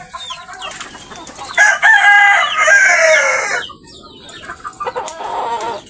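Domestic roosters, about five months old, crow loudly and at length while hens cluck around them in a farmyard. The crowing rises in the middle of the clip and is followed by scattered clucks, with no one talking.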